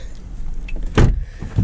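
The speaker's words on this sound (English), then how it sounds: "Closing the door, we're inside." The door of a Lamborghini Aventador swings shut with a firm thud, followed by a softer second knock as the cabin settles, heard from inside the car without speech.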